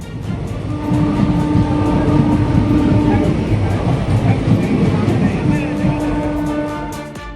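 A passenger express train rumbles along the rails with a continuous roar and rhythmic clatter, and a sustained horn-like tone sounds near the start and end, loud and close.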